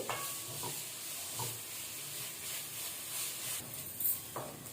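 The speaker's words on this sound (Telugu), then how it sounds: "బీట్రూట్ మీడియం ఫ్లేమ్లో పెట్టుకుని పచ్చి వాసన అంతా పోయే వరకు వేయించుకోవాలి." Grated beetroot for halwa frying over a medium flame while a spoon stirs it, giving a steady soft sizzle with faint scraping strokes every second or so, fairly quiet and with no talk.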